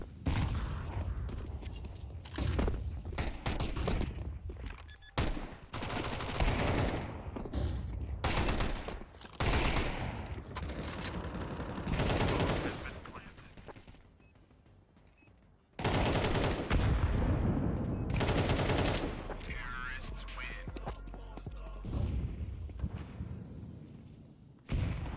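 Rapid bursts of Tech-9 pistol fire in a competitive Counter-Strike style match, repeated volleys of loud clattering shots across the clip with a short lull midway, mixed with game effects and occasional commentator talk.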